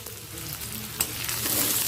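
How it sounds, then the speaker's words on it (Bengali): Chopped onion and green chili fry in oil in a pan, a steady close sizzle with light stirring scrapes and one sharper pop midway, no voices. "কাঁচা লঙ্কা পেঁয়াজটাকে একবার ভালো করে ভেজে নেব"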